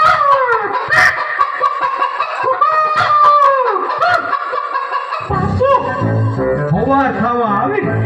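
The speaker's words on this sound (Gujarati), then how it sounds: "હવાર થવા આવી કુકડે માંગ પોકાય" Rooster crowing played as a dawn sound effect during a village stage play, Vir Mangdawala in Chamaraj, with repeated drawn-out calls mixed with voices and chuckling.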